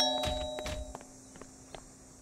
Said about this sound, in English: Ring the bell, Yuki.